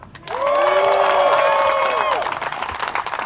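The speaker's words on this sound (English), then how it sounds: "Make a round of applause for Kat Mertsch." An audience applauds and cheers at a disc golf tournament, a burst of clapping that swells quickly, holds for about two seconds, then thins out, with a loud tonal whistle or squeal sweeping through it.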